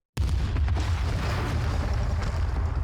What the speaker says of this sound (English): The explosions rip through the hall with a force unlike anything I've ever felt before.